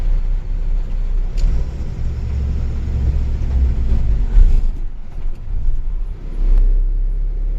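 On a rain-soaked road in Kasaragod, an oncoming vehicle brings a loud, low engine rumble and road noise that swells through the middle and eases slightly toward the end, with no talking.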